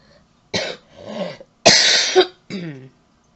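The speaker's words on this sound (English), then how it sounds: "sorry about the coughing" A woman coughs several times in a row while presenting her cross-stitch, close and loud: a few harsh bursts followed by a longer hacking cough and a final short one.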